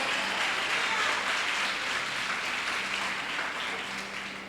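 A church congregation applauds during a worship service, a broad, sustained wash of clapping and cheering voices that gradually eases in loudness, with a low hum beneath.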